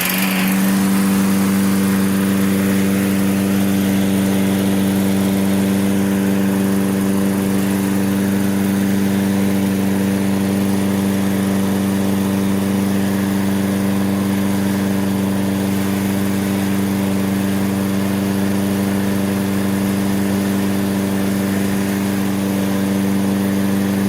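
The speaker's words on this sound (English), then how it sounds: "Cranking up first pull. See what it does as the engine heats up." A lawn mower engine runs steadily after its first starter pull, a loud, close, even mechanical drone that holds without pause and with no clear revving.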